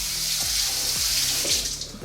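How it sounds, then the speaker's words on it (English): Milk pours into a pot of homemade mac and cheese, a bright continuous splashing stream with a few soft glugs and bubbling, close and fairly loud, without speech. "we're just gonna add more milk"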